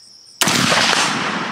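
A single sharp rifle gunshot during long-distance target shooting with a Nikon M223 scope setup, loud and close, its blast trailing off in a rolling echo over about a second.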